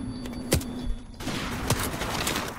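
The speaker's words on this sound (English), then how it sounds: "he's just shooting me with a fucking RPD" RPD machine gun fire in an online shooter, rapid bursts of shots crackling under dense game noise, with sharper reports standing out near the start and middle.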